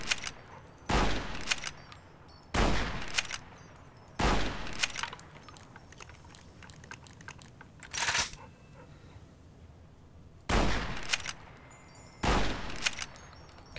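Bursts of gunfire from a weapon in Fallout New Vegas, five or six loud volleys spaced a second or two apart, each a dense crackling rattle, with quieter ambient game noise between.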